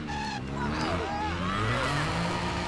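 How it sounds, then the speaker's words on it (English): A car in the video game Driver San Francisco with a throaty exhaust note, engine revving and shifting pitch continuously, fairly loud and steady throughout, with no talk over it. "This car sounds awesome"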